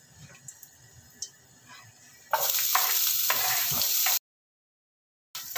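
Purslane greens dropped into hot oil and stir-fried, a loud broadband sizzle bursting in after quiet, faint scraping and lasting about two seconds before cutting to silence, then returning briefly.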